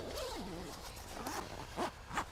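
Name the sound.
zipper closing front of hunting hammock chair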